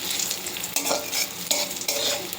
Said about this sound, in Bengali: একটু রসুন দিয়েছি বেশি করে, একটু কাঁচা লঙ্কা আর একটু পেঁয়াজ দিয়ে এই যে ভাজা ভাজা করলাম